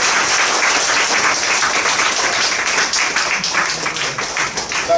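An audience in a school lecture hall gives warm applause to welcome a guest speaker at an astronomy talk, a loud, dense wash of clapping that holds steady throughout.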